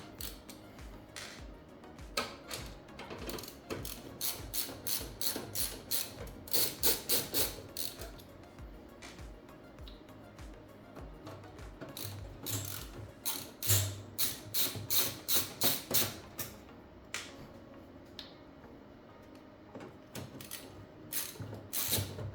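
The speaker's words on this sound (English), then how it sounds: "So we'll just take out the 4 screws." Ratchet clicks as four screws are backed out of a modular computer power supply, several quick bursts of rapid ticking with short pauses between, close and fairly loud with no talking.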